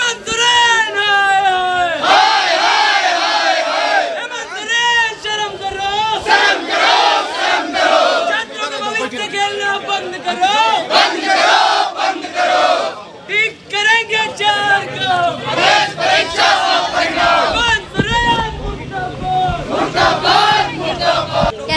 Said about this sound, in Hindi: आज मैं भारी भीड़ देख पा रही हूँ, आप लोग प्रदर्शन कर रहे हैं